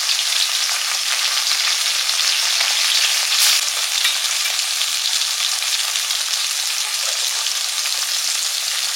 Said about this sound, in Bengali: পুঁটি মাছ ভেজে নিচ্ছি, পুঁটি মাছ ভাজা খেতে ভালো লাগে।